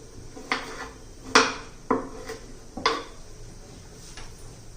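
A knife chops through cauliflower on a board, five or six crisp cuts at an uneven pace, close and clear.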